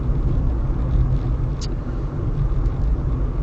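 A car drives along a road at night toward lights, its steady low engine and tyre rumble continuous and close, with a brief faint click partway through and no talk.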